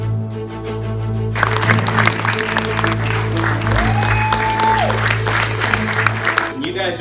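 Audience at a film premiere for a Lego DC superhero movie bursting into sustained applause with cheering voices, loud and dense after a quieter opening, continuing for several seconds.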